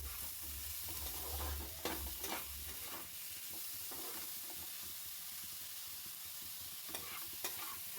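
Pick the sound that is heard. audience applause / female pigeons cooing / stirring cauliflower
stirring cauliflower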